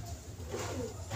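Pigeons coo softly in a brief, low murmuring burst, faint and close with a steady background hum.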